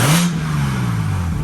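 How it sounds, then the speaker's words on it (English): A warmed-up BMW M240i fitted with a titanium exhaust, valves closed, revs in one loud close burst that climbs quickly and then settles into a droning, slowly falling engine note. "We about to do the valves closed rev first, and then we're gonna do the open valve."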